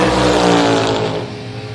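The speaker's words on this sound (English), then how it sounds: "Brian Lynn in the right lane, dial 571 in the Camaro" Drag race cars, including a Camaro, roar off the line in a loud sustained engine blast that slowly eases, with no talk over it.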